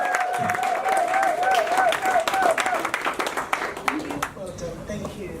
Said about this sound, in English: Please, a loud applause to this lady.